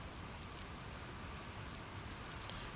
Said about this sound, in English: But if we turn that up, then it's going to start raining.